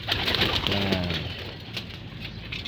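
Racing pigeons coo in a loft after returning from a training flight, giving a low, rolling coo early on, with a faint rustle of wings and birds shuffling afterward.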